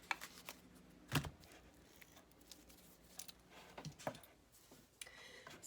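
A colourful tarot deck being shuffled by hand, quiet intermittent papery riffles and soft card taps with a few sharper clicks, close and low in level with no talking.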